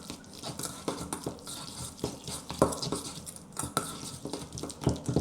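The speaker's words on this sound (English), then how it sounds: "mix everything together and that will become the shrimp paste" Shrimp paste being mixed by hand in a bowl with egg, cornstarch and pepper: a close, steady series of soft wet clicks and scraping taps in uneven rhythm, with no voices.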